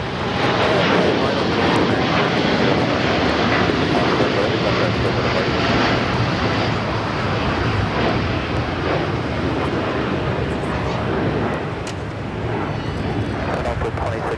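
An airplane taking off from runway 25 right at LAX: a steady, loud, broadband engine roar that holds for the whole stretch and eases slightly near the end.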